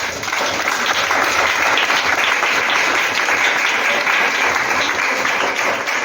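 A church congregation breaks into loud, sustained applause during a sermon, a dense wash of clapping that holds steady throughout.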